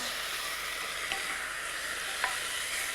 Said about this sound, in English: you add the other ingredients, which is the 3 anchovy fillets, chopped, 2 tomatoes, 1 clove of garlic. Stir that around.